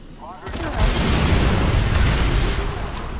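A grenade blast in the zombie video game Dead Rising 3, a loud, sustained booming roar of explosions filling the mix, with a voice talking over it.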